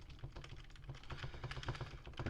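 Quick, irregular keystrokes on a computer keyboard, close and faint, a rapid patter of clicks with no talk over it.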